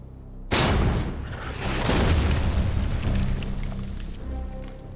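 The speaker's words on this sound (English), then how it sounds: "German counter-battery fire also opens up." German counter-battery artillery fire from a World War II battle: a sudden loud boom breaks out, then a sustained rumbling barrage of overlapping blasts and crackle with a deep low roar that lingers to the end.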